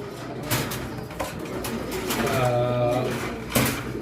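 Pigeons cooing at a pigeon farm, several soft throaty coos repeating close by over a low background of other birds and faint farm noise.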